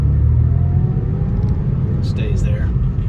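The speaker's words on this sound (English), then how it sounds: "Engine fires right up, no issues. Goes straight to idle," A 1993 Porsche 964 Carrera Cabriolet engine idles with a steady low rumble, heard from inside the car beneath a voice talking.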